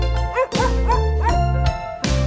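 A puppy-style bark sound effect, yip-like and bright, repeats four times in a steady rhythm over a children's song backing track, loud and close.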